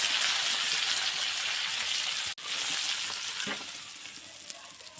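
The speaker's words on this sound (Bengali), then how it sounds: "মাংসটা আমার ভাজা হয়ে গেছে" Meat fries in a pan with a steady, close, hissing sizzle that cuts out for an instant midway, then continues a little softer with small pops toward the end; no one speaks.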